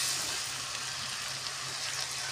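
Mixed spice paste sizzling in hot oil with fried onions for a taro root curry, a dense, even hiss that holds steady throughout with no voices.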